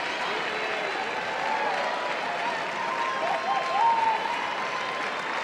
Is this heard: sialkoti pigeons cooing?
no